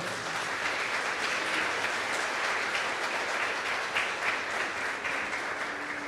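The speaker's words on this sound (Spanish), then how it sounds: "Denle un aplauso al Señor por eso." A church congregation applauds the Lord, a smooth, even roar of many clapping hands sounding somewhat distant and moderately quiet, steady for the whole stretch without voices.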